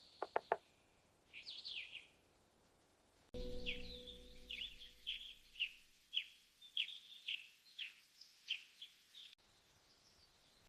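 A little bird on a farm chirps in short, repeated high peeps, faint and fairly close, at first sparse then in a steady series of evenly spaced calls over a quiet background with a soft low rumble.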